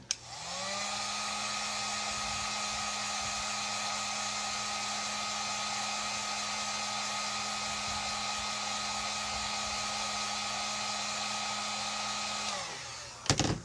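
A hair dryer runs continuously for about twelve seconds, blowing on a craft letter for face mask holder home decor, with a steady whirring hum that starts and stops with clicks.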